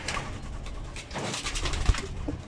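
Soft cooing of turtle doves, a few low hollow calls under faint outdoor background noise, fairly quiet and a little distant.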